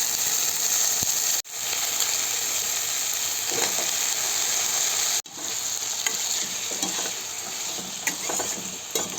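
Raw plantain sautés with garlic in a pan, a constant close sizzle with repeated scraping and rattling of a spatula, cut by two brief gaps.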